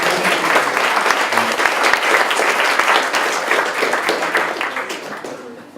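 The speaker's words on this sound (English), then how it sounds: "I'd like for everyone to give a round of applause for Gerard from Captain AI" Audience at a startup funding event in Amsterdam gives a sustained round of applause, dense steady clapping from a crowd that holds for several seconds, then gradually fades toward the end.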